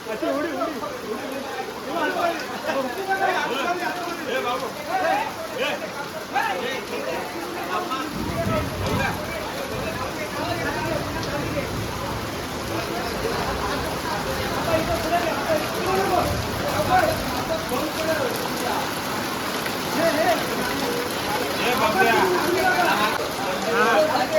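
Heavy monsoon rain pouring down steadily outdoors during a village puja in Konkan, a constant loud hiss throughout with people chattering and talking under it.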